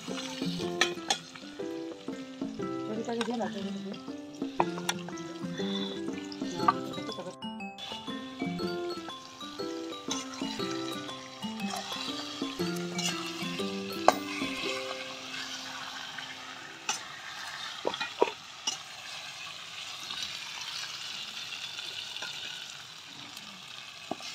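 Steady sizzling of meat frying in a hot pan with already-fried onions, with occasional stirring scrapes and clinks, no talking.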